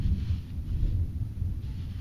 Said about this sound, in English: I don't know if you can hear that thunder out there.